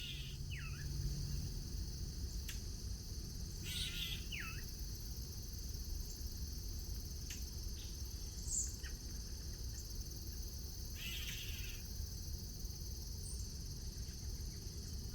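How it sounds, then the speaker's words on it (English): A brown thrasher gives its short, sharp smack call a few times, spaced seconds apart, faint and distant over a constant hiss of insects and low background rumble. "I actually want you to hear this brown thrasher smack call."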